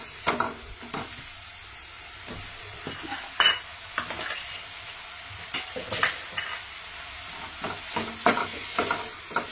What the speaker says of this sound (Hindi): मेथी को इस तरह भूनने से थोड़ी सी उसकी कड़वाहट निकल जाएगी और ये मेथी सॉफ्ट भी हो जाएगी।